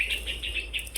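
Short, high chirps from birds repeat in quick succession over a low steady background rumble, fairly close and clear.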